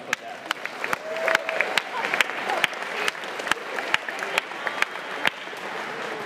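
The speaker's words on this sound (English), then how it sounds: "So give yourself a round of applause for that." Steady audience applause fills the space at a robotics competition's opening event, dense clapping from a crowd with a few sharper claps standing out, sustained throughout.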